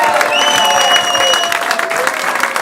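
A live podcast crowd claps loudly and steadily, the applause continuing throughout with a few whoops and whistles rising above it.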